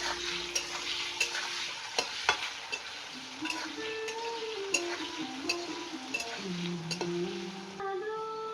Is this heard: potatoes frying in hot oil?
yes